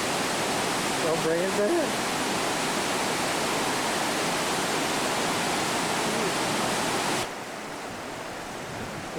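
A river rushes hard just above the point where it drops into a falls in Africa, a loud, steady broadband roar that fills the whole clip and eases slightly near the end, with a brief voice speaking early on.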